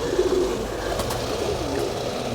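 A large pigeon coos softly and close by, low murmuring calls over a steady background hum.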